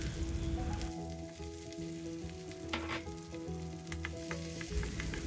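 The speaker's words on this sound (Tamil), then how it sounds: "இப்போ கொஞ்சம் நெய்யும் கொஞ்சம் எண்ணெயும் சேர்த்து இந்த பருப்பு தாளிக்கும் போது ரொம்ப நல்லாயிருக்கும்." Mustard seeds and cumin sizzle in a mix of ghee and oil for a dal tempering, a steady close crackling and spitting with faint tonal music behind it.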